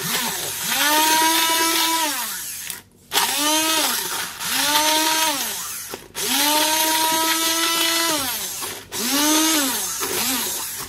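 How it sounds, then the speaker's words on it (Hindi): A mixer grinder pulses on fried masala in four separate bursts. Each time the motor whines up to a high buzzing pitch, runs loudly, then winds down before a short pause. "अब हम इसको ग्राइंड कर लेंगे।"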